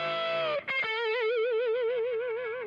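A distorted electric guitar through a Plexi amp model on an HX Stomp rings out a sustained note, a quick chord stab, then a long held note with wide, wavering vibrato.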